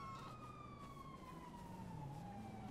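A police car siren in the video game GTA V, a faint, steady wailing tone that slowly drops in pitch, carried along with a low engine hum.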